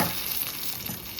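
Hot garlic tempering hitting sweet potato pulusu gives a loud, close, continuous crackling sizzle that holds steady through the short moment, with no voices.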